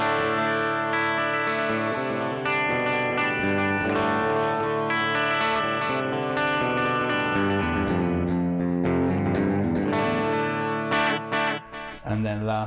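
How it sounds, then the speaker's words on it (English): Electric guitar through the digital delay setting of a Keeley Supermod Workstation pedal, a sustained run of notes and chords with repeating echoes trailing each phrase, played alone and fairly quiet. "Number 8 is again the digital delay."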